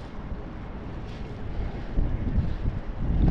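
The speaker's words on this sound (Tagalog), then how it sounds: "Medyo malakas po uli ang hangin." A strong winter wind rushes and buffets the microphone during a fishing trip, making a continuous low roar that swells louder toward the end, with no one talking.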